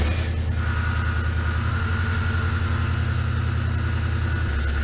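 A 1967 Chevrolet C10 pickup engine runs close by with a constant loud rumble and a thin high squeal on top, shifting slightly in pitch partway through, no voices.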